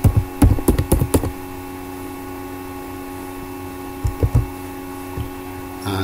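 Fingers tap out a password on a computer keyboard, a quick cluster of close key clicks, then quiet mains hum, then a second short burst of keystrokes.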